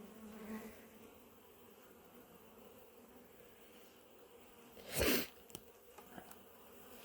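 Honey bees buzz at an open beehive in autumn, a faint steady drone with a louder burst as a bee passes near, followed by a few light clicks and knocks.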